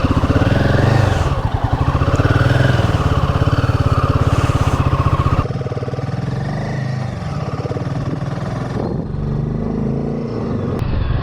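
A Royal Enfield motorcycle engine runs loud and close, its thumping note steady through the first half before dropping to a quieter, continuing drone as the bike moves off on a road trip.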